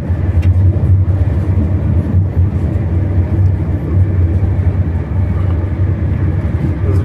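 A car drives fast along a road and fills the recording with a loud, steady low road roar and engine drone from inside the cabin, unbroken throughout and with no talk over it.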